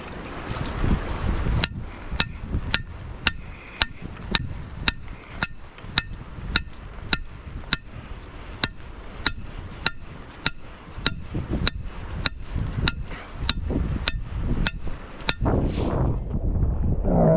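A homemade deer stop is hammered down onto a snare cable outdoors: about twenty sharp, evenly spaced metallic blows ring out close and loud over light wind noise.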